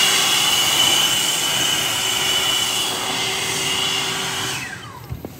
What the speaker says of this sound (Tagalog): It's just a leaf blower.